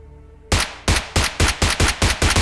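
SMG fire in a battle royale video game: a tight series of about eight sharp, loud, close shots in a quick, slightly uneven rhythm, alone without talk.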